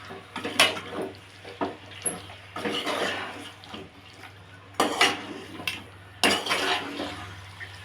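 Chicken pieces stirred into oil in a metal pot over high flame, with a series of scraping, clattering utensil strokes against the pot, close and fairly loud, with brief pauses between bursts.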